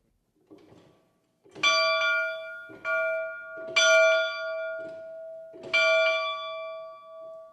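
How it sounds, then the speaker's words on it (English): A large steam locomotive bell rings four times in slow, even strokes, each clang ringing out and fading before the next, loud and close with no other sound. "I like to ring the bell for them and let them see what a steam locomotive bell sounds like"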